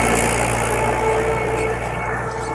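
A new Mahindra 475 DI tractor engine runs at a steady idle out in a farm field, a continuous low rumbling drone with an even, unchanging loudness throughout.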